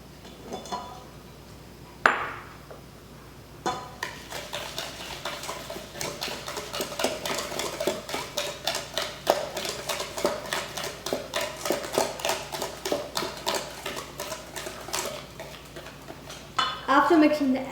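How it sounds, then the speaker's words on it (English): A utensil scrapes and clinks steadily against a bowl as an egg is mixed into creamed butter and sugar batter for a holiday baking recipe, a rhythmic stirring sound that runs for a long stretch, fairly close. "After mixing your butter and sugar, let's add our egg"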